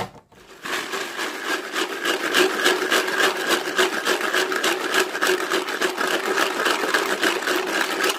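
Bullets tumble and rattle continuously in an acetone-based coating mixture inside a rotating container, producing a steady, dense rasping clatter close up.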